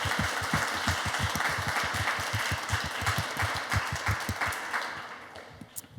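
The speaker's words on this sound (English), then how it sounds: "So if I can get a quick round of applause just for all of our speakers." A live audience claps for the speakers at an art talk on stage, a dense, steady patter of many hands that holds for several seconds and then thins out toward the end.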